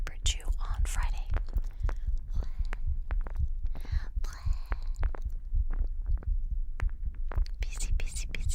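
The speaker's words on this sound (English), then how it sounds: "I did a 1-hour heartbeat recording before the stream, which allows me to have this overlapping audio for you." A recorded heartbeat runs as a steady low throb, with soft close whispering layered over it in an intimate, slow, sleep-oriented setting recorded on a binaural microphone.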